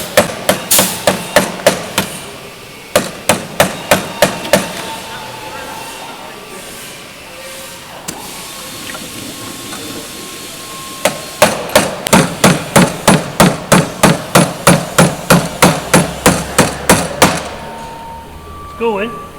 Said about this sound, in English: I'm just using the weight of the hammer